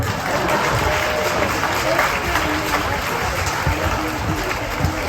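A crowd applauds steadily and fairly loudly throughout, a continuous wash of clapping at a March 8 celebration, with some voices talking under it.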